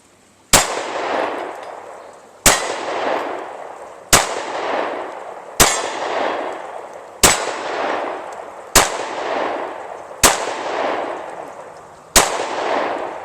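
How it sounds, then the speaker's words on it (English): A Glock 26 Gen 3 pistol firing 115 grain ball ammunition at steel targets, eight sharp, loud shots spaced roughly two seconds apart, each with a ringing metallic clang and reverberant decay. "Let's take a few shots. Glock 26 Gen 3."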